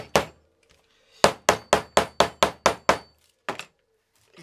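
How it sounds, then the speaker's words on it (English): A smooth face hammer strikes a leather sheath with sharp, loud thwacks. One lone hit comes first, then a quick even run of about eight blows, then two more after a pause. "smooth face hammer, I'm really whacking that"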